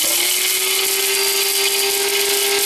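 An electric grinder whirs continuously as it grinds dried chili peppers, including a big chunk. The steady, loud motor drone with a rattling high hiss fills the whole stretch without talk.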